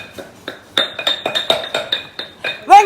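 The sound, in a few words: pounding Khao Soi curry paste ingredients in a mortar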